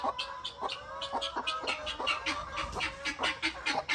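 A mother hen clucks near her three chicks in a small farm setting, with rapid, repeated calls close by and no talk.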